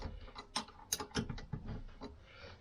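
A ratchet working two 13mm bolts loose on the back of a Vauxhall rear wheel bearing, heard as a short series of faint, close clicking ratchet strokes in a quiet workshop, with no talk.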